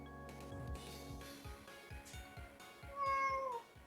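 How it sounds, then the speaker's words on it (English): A cat meows repeatedly through a stream participant's open microphone during an Ocarina of Time randomizer session, several rising and falling cries over a low background hum, the loudest drawn-out meow near the end. "I'm cool listening to a cat."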